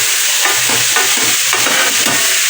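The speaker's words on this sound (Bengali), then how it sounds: "পকোড়া এবার ভাজি ছাড়লাম" Pakoras fry in hot oil, a loud, even sizzle close by with soft rhythmic stirring or bubbling pulses beneath it, no voices.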